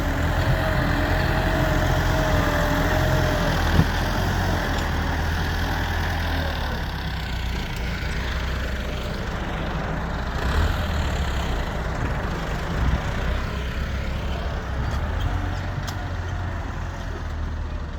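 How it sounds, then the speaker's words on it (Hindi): A tractor pulling a trolley fully loaded with heavy soil, its engine droning steadily and loud close by, with a low labouring rumble throughout and no speech. "मट्टी का वज़न बहुत ज़्यादा है, ट्रैक्टर को काफ़ी ज़ोर लगाना पड़ता है।"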